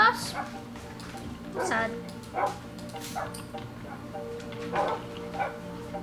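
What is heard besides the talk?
dogs barking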